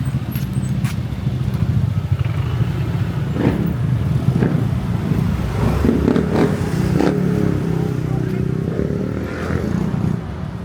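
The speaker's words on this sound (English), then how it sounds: "Don't mind the traffic here just having a bit of a moment." Busy street traffic in Thailand, with cars and motorcycles passing nearby; a steady, loud engine rumble carries throughout, with occasional revving swells and clatter.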